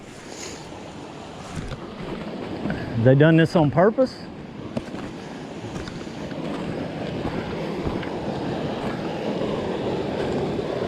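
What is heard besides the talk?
water gushing from a broken pipe leak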